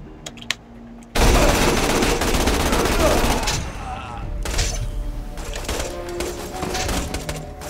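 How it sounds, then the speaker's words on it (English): A belt-fed light machine gun fires in Borderlands 2 with long, rapid, sustained bursts of loud gunfire. Game effects and a talking voice are heard around the shooting. "Because I'm using a belt-fed LMG."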